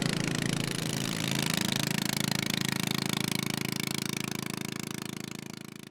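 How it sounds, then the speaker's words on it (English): Fishing boats buzzing around near a quiet wilderness anchorage, a steady rapid outboard-style engine drone with a fast pulsing rhythm, fairly strong and continuous, fading slightly toward the end. "There's a few fishing boats around, as you can probably hear in the background, buzzing around."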